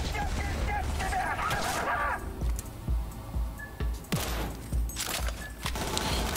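Gunfire in the video game Cyberpunk 2077, with rapid bursts and repeated sharp shots along with mechanical clicks and metallic clatter, loud and dense throughout.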